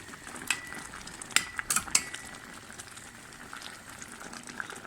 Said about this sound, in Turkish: kaynamaya halen devam eden bir reçelim var. Karıştırıyorum suyunu belirli çekti.